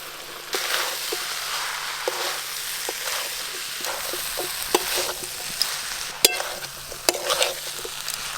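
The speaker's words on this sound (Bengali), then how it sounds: "চিংড়ি মাছ আর বাঁধাকপি দিয়ে দেব।" Small prawns and cabbage frying with spices in a pan, a continuous close sizzle broken by regular scraping strokes of a spatula and a few sharp metallic taps, no voices.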